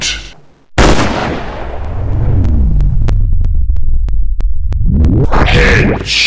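A sniper rifle shot from an army shooting video game cracks out loud and sharp, then a long rumbling boom tails off beneath a run of faint, evenly spaced clicks before a brighter burst near the end.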